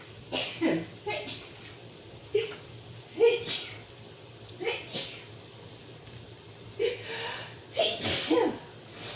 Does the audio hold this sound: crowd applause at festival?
no